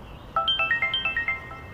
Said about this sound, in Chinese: 电话来了吧？